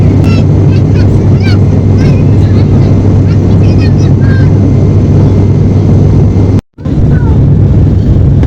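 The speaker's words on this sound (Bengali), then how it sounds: "এয়ার বাসটি এই মুহূর্তে ল্যান্ডিং করবে সিলেটের ওসমানিয়া আন্তর্জাতিক এয়ারপোর্টে" Inside the cabin of an Airbus airliner landing at Osmani International Airport in Sylhet on a flight from Dhaka: a loud, constant engine and air roar with faint chirps on top, briefly cutting out for a moment before resuming.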